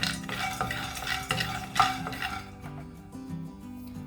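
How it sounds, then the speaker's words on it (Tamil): Two teaspoons of peanuts rattle and scrape in a dry pan as they are roasted and stirred briskly, loud at first and then thinning out, with a soft steady hum underneath. "முதல்ல 2 டீஸ்பூன் நிலக்கடலையை நம்ம வறுத்து எடுத்துக்கலாம்"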